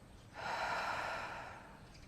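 A single soft exhale during a breathing exercise, a breathy rush of air lasting about a second, close and quiet.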